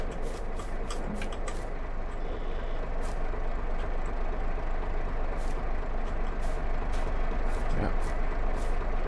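A truck manoeuvres to position a firewood trailer, its engine rumbling steadily while short hissing air-brake bursts repeat throughout, and a voice briefly speaks.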